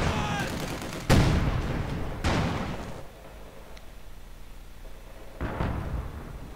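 Gunfire and tank cannon shots from a WWII strategy game, with Panzer IV armor in the fight, crack in sharp loud bursts, three heavy blasts spaced a second or more apart over a constant battle rumble.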